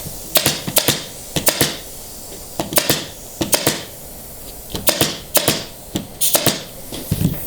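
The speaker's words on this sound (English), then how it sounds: "I'm going to take a little extra staple there where the webbing was coming out" A staple gun fires into webbing on an 1860s chair being reupholstered. It gives close, sharp snapping clacks in quick pairs and clusters, roughly fifteen shots spread over several seconds, with no talking.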